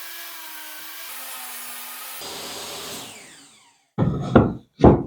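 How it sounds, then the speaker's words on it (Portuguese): A power saw runs with a steady whine and cuts a 12-degree angle through wood, then winds down before two short loud bursts of wood being knocked or handled. "vou ligar a serra e vou fazer esse corte aqui de 12 graus"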